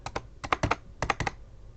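Keys clack on an English-layout computer keyboard during Minecraft play, in two close bursts of about five quick, crisp presses each, separated by a short pause.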